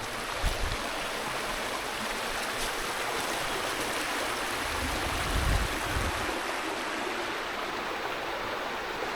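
A stream flows near a waterfall in Connecticut, making a steady broadband rush of moving water that stays close and constant throughout, with occasional low wind bumps and no talk.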